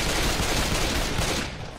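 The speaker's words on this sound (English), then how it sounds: "Long range shotgun." Shotgun fire in the video game Left 4 Dead 2, a dense, loud burst of blasts and gunfire filling the whole moment before trailing off.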